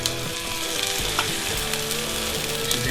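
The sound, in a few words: onions and burger frying in a pan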